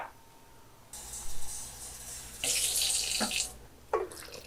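Water rushes and splashes in short bursts as two cups of hot water are poured into a mixing bowl for bread roll dough, with brief pauses between pours.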